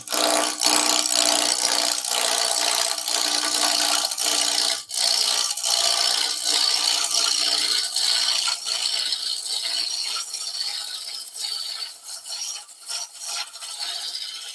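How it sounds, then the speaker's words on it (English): A wood lathe roughs down a wooden kitchen scoop, with a gouge scraping and rasping against the spinning wood in short, irregular bursts and chatter, close and fairly loud with brief pauses. "So lathe speed back up, and we'll just finish roughing down that area."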